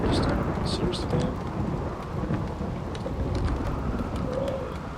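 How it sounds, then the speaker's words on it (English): A rainy thunderstorm in RimWorld: steady rain hiss and low rolling thunder fill the scene, with bird calls chirping faintly above at the start. "Okay, it's a rainy thunderstorm"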